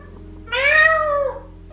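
A single clear cat meow, close and fairly loud, rising then falling over about three-quarters of a second against a quiet indoor background.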